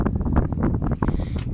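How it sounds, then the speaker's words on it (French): Strong wind gusting through a vegetable garden, heavy buffeting rumble and rustle blowing against the microphone for the whole stretch, with no voices. "Il y a un sacré vent quand même"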